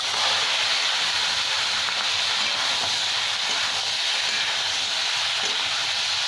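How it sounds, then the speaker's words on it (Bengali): Prawns frying in spiced oil in a pan over lowered gas, a loud steady hiss of sizzling that holds evenly throughout, close up and with no voices. "এবার আমি গ্যাসটা কমিয়ে দিয়েছি আর চিংড়ি মাছটা তুলে দিলাম এর মধ্যে।"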